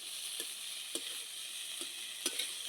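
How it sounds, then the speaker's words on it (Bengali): Puti fish and sour okra frying together in a pan, giving a steady close sizzle with occasional soft stirring scrapes and clinks, no voices. "পুঁটি মাছ দিয়ে এবার টক ঢাঁড়সের সঙ্গে ভালো করে কষিয়ে নিচ্ছে"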